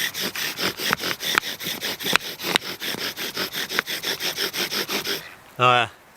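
A bow drill saws rapidly back and forth on wood in a fast, even rhythm of rasping strokes, then stops; a brief voice follows.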